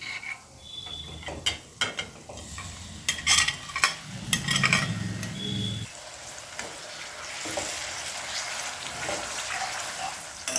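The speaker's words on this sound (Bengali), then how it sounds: "এবার দই দিয়ে যে মাছটা ম্যারিনেট করে রেখেছিলাম সেটা দিয়ে দেব।" Yogurt-marinated small hilsa fish sliding into a hot pan of oil and turmeric, with clattering and scraping at first, then a steady close sizzle of frying.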